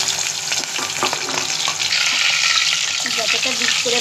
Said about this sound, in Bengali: প্রত্যেকটা মাছে খুব এবার একটা একটা করে তেলে এইভাবে ভেজে নিতে হবে